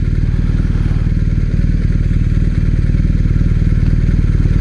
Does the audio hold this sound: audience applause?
no